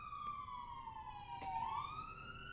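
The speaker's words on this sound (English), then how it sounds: "Alright, ambulance." An ambulance siren wails faintly as it passes, its rising and falling tone dipping lower midway and then climbing again, heard at a distance with no talk over it.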